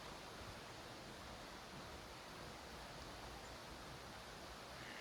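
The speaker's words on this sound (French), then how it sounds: "Là-bas au bout, la cascade." A nearby waterfall gives a steady, dense broadband rush of falling water, even and continuous throughout with no voices over it.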